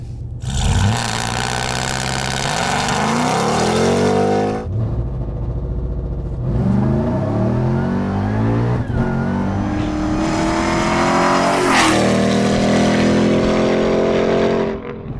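A RAM TRX pickup truck in sport drive mode accelerates hard, its engine roaring loudly through several rising gear pulls with brief dips at each shift, close and continuous for about fifteen seconds with no talking.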